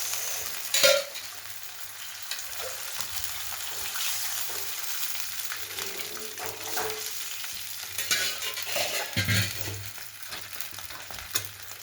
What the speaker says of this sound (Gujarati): હવે નાખશું છાશ